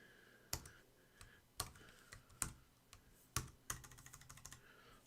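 Typing on a computer keyboard, heard close up as irregular bursts of sharp clicks and key taps with short pauses, ending in a quick rapid run of keystrokes.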